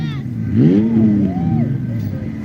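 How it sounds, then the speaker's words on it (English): A dune buggy fitted with a V6 engine revs up and settles, a loud mid-pitched engine sweep rising and falling close by at an outdoor park event, with voices faintly around it. "That dune buggy sounds really cool."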